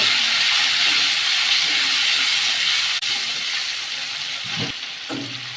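Prawns fry in a pan with onion and a spice paste of cumin and chilli, giving a steady, close sizzle and hiss with a few soft stirring clatters near the end.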